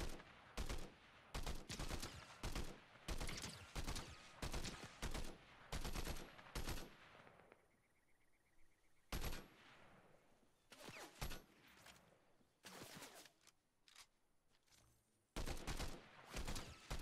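Rapid bursts of gunfire in Fortnite, loud and close, firing in quick repeated volleys for several seconds, then a brief lull before more scattered shots and fresh bursts near the end.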